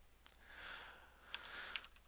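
Computer keyboard typing during a Hack The Box session, a quiet run of soft key clicks with a couple of sharper taps, close and faint, with no talking.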